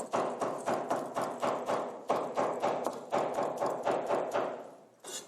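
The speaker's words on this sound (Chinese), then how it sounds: "我最喜欢听那个厨房剁菜的声音" Kitchen knife chopping deep-fried chicken for Yunnan-style numbing pepper chicken: regular, close, heavy chops strike a board about twice a second, with a brief pause near the end and no talking.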